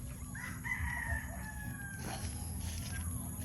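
Gamecock rooster crowing on a farm, one long clear crow rising and held, followed by a fainter second call, heard at moderate distance over a low steady background rumble.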